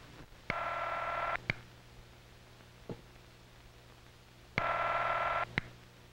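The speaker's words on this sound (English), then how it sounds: "it means that the other telephone is ringing" A 1951 telephone ringback tone sounds as the called phone rings: two steady, buzzing bursts of about one second each, roughly four seconds apart, each ending in a click, heard alone over faint hiss.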